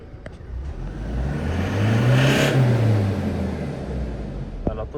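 A 2021 Toyota Hilux diesel with i-ART injectors idles close by, and the engine swells in a smooth rev around the middle before settling back to a steady idle.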